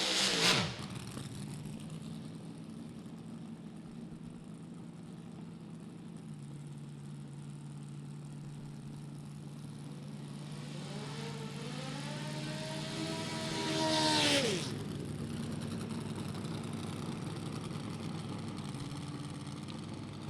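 A small 4-cylinder drag racing car idles steadily at an NHRA Sportsnationals event, its engine rising into a revving rumble near the middle before settling back to a steady idle.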